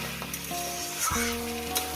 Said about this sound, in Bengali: গ্যাসটাকে হাই করে দেব হাইতে দিয়ে ভালো করে সুন্দর করে শুধু ভাজবে গিলেটাকে